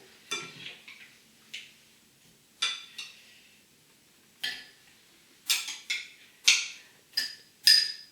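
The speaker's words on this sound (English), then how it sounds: "So let's start by putting the cucumber in now." Cucumber pieces placed into a glass jar for ginger pickled cucumber: about a dozen sharp clinks and taps at irregular intervals, close and clear against near silence, with no talk.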